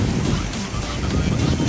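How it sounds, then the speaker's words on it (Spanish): Sea waves washing onto the shore at Veracruz, a loud, steady broadband wash of surf mixed with wind rumbling against the microphone, with no pauses. "Así se ve el mar"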